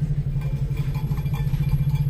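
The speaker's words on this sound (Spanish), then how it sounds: "Una oración para esa pobre moto, ay, Manuel" Motorcycle engine straining in the street of Tepic's historic center in Nayarit, Mexico: a steady, low, throbbing engine drone with a slight rhythmic pulse, fairly loud and close, with no talk.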